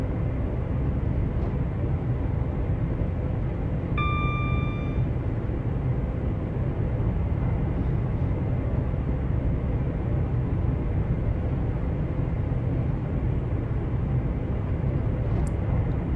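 A train runs through a snowy European route in the Train Sim World 5 video game, giving a constant deep rumbling drone like an airliner cabin, with a brief electronic chime early on and no talking.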